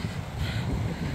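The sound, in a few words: morning wind blowing at a park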